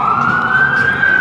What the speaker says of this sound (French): Non, c'est une ambulance pour changer un peu.